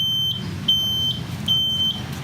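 A 1996 Suzuki RC100 Bravo motorcycle with its ignition switched on gives a repeating electronic beep warning, three steady high-pitched tones spaced under a second apart over a low background rumble.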